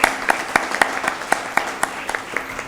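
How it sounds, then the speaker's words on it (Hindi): An audience at a birthday celebration event applauds with a scattered run of sharp, fairly close hand claps that keeps an irregular beat throughout. "एक बार जोरदार तालियां हो जाएं"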